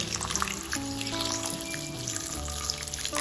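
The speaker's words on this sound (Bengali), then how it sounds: "এখন আমি এর মধ্যে দিয়ে দেবো 1 কাপ মতো জল।" About a cup of water pours into a hot pan of frying cabbage curry with prawns, giving a close, continuous gush and sizzle for a few seconds, with no talking.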